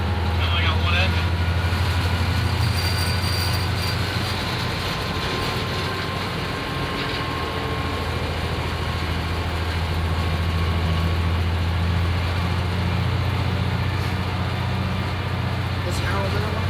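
Inside the cab of a 1995 LIRR FL9 locomotive running between Penn Station and Port Jefferson, a steady low engine drone and rumble continues throughout, while crew members talk over it.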